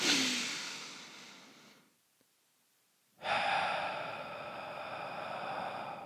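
Slow deep breathing close to the microphone: one long exhale fading out, a brief silent pause, then a strong inhale that rises sharply and holds, with no talking.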